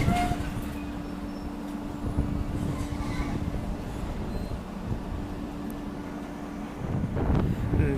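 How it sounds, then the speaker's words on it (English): The Indian Pacific passenger train pulls away, a steady low rumble with a faint sustained tone and some wind noise across the microphone, swelling slightly near the end. "The Indian Pacific is now departing, half an hour late."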